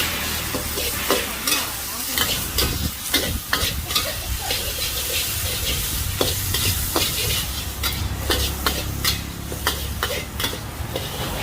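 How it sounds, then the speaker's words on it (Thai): Pad thai stir-fried in a wok at a street stall, with a constant loud sizzle and rapid, repeated scraping and clanking of the spatula against the metal pan. "มาถึงหน้าร้านแล้วจะมีการผัดโชว์ด้านหน้าเลยนะ"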